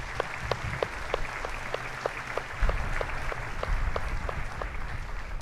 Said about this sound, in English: Let's give him a quick round of applause, please.